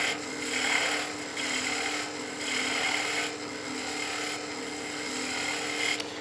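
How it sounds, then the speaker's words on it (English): A skew chisel planes wood on a spinning lathe, making a steady rasping hiss that surges in rhythmic passes every second or so, close and fairly quiet, with no voices. "That's the beauty of a skew, is it cuts a really nice taper and it just cuts clean in general if I'm planing."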